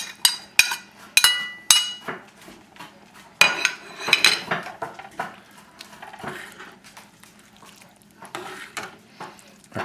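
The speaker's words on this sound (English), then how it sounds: "Now we'll just add the diced sausage back into the mix." Diced Italian sweet sausage is tipped into a pot of pinto beans and stirred, with sharp metal clinks and scrapes of a spoon against the pot, then softer thick stirring and a faint simmer, close and without voices.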